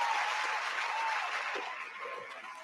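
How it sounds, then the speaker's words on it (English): Steady applause from a studio or live audience, moderately loud with a dense even texture of many hands clapping, tapering slightly toward the end with no talk over it. "let's give him applause."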